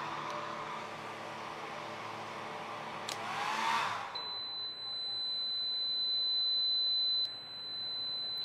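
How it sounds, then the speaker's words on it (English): A compact hairdryer running on high from a portable off-grid power station blows a steady rushing whir, cuts out partway, and an electronic tone then sounds continuously with a steady hum beneath. "a small compact hairdryer. See what this will give us."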